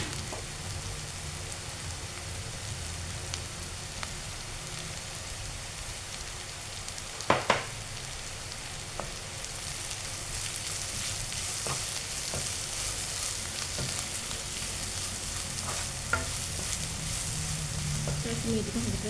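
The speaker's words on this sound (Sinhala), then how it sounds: "මේ ටික හොඳට කලවම් කරලා ටික වෙලාවක් ටෙම්පරාදු වෙන්න තියෙනවා." Chili and spices sizzle and crackle steadily in hot oil for a salmon devilled dish, a continuous close frying hiss with occasional sharp clinks of a spoon stirring the pan.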